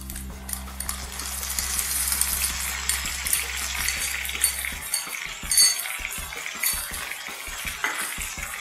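Ground coriander paste frying in a pan for coriander rice, with a steady broadband sizzle and repeated stirring scrapes and clinks of a spoon against the pan, close and moderately loud, no voices.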